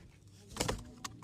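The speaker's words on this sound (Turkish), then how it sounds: "Bayağı güzel kanat sesi." A quick burst of fluttering pigeon wingbeats, close and fairly loud, followed by a second brief flap, over a quiet background.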